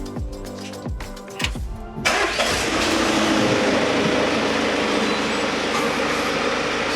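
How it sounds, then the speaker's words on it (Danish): A van engine is cranked with a few laboured starter whirs and then catches, settling into a loud, steady idle close by, with no talk over it. "Vi kan prøve med at starte bilen."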